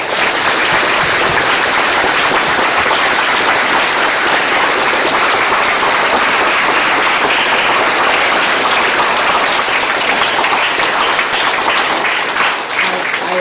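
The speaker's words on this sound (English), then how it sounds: "I would like all of us to show a big round of applause." An audience breaks into loud, sustained applause, dense clapping filling the room without letup for the whole stretch.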